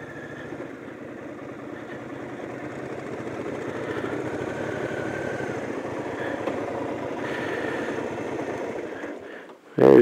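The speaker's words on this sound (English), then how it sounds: "A little off-road riding here." A motorcycle rides off-road on arrival at a clubhouse campground, its engine droning steadily and fairly close for nearly the whole stretch before a sharp bump at the end.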